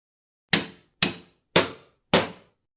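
Four distinct hammer strikes land at an even, unhurried pace, each a sharp, fairly loud knock that rings briefly and fades before the next; no voices.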